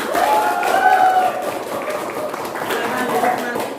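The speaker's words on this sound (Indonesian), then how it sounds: "Iya, tepuk tangan." Students in a classroom clap together at the end of an Islamic studies lesson, producing a moderately loud, continuous patter of hands for nearly four seconds, with young voices calling out over the clapping.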